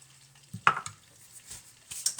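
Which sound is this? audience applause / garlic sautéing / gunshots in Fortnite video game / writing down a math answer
garlic sautéing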